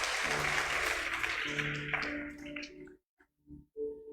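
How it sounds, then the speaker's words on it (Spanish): Applause from a church congregation, a burst of clapping that thins out and stops after a few seconds, followed by a few faint scattered sounds in near silence. "Entonces, vamos a darle un aplauso."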